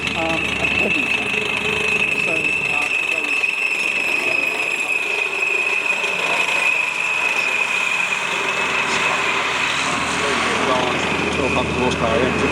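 An M103 heavy tank running at a tank show, a loud continuous mechanical roar with a high whining tone and rattling clatter, sustained and close throughout with crowd noise underneath.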